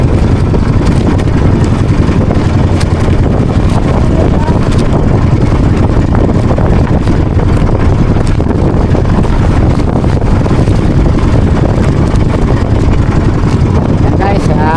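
Strong wind buffets a small fishing boat at sea, a loud, steady roar with gusty rumble that never lets up from start to finish.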